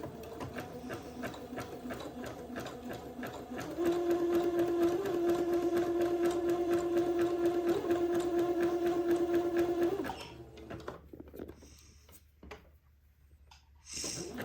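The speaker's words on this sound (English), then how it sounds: "I'm going to zigzag this raw edge of the entredot, just so that it's a little bit, it'll be a little bit neater inside the sleeve" Sewing machine running a steady zigzag stitch along the raw edge of entredeux for a sleeve, a continuous whirring hum lasting several seconds before it stops and quieter handling follows.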